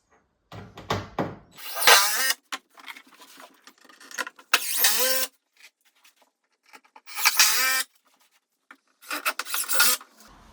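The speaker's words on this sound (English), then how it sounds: "I got 2 more screws to put in here." A power driver whines through screws going into a subfloor board while levelling an out-of-level floor with shims, loud close rising bursts, about four separate drives with quiet gaps between, no talking.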